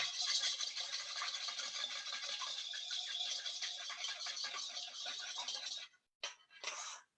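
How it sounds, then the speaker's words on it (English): A whisk beats an egg into half a cup of canola or vegetable oil in a large bowl, a fast, steady scratchy rattle close by that stops briefly and then starts again near the end. "just give it a whisk"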